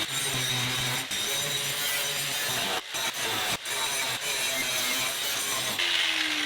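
Grinder working on a 1966 Buick Riviera, a steady abrasive whine and grinding hiss with brief drop-outs as the tool lifts off the metal, close and continuous, then a rising motor tone at the end.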